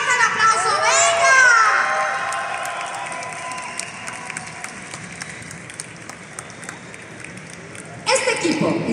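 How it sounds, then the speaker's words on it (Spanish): A crowd at a League of Legends final in Centro CitiBanamex, 2022, bursts into applause and cheering that fades under an announcer's voice, then swells again briefly near the end. "¡Fuerte el aplauso! ¡Venga!"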